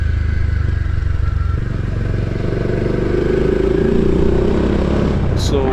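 A Bajaj Dominar 400 motorcycle cruises at relaxed, low speed along a one-way hill road at Fraser's Hill, its engine droning steadily and loudly with wind noise throughout.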